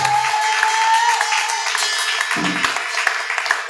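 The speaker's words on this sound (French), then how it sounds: "donne une acclamation à Jésus ce matin" A church congregation applauds for Jesus in a continuous, even wash of clapping that holds steady throughout, with a sustained musical tone running underneath.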